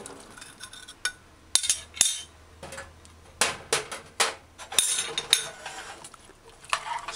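Diced pumpkin tipped into a saucepan for shrimp pumpkin curry stew gives a run of clinks and knocks of metal against the pan, irregular and close, with quiet gaps between.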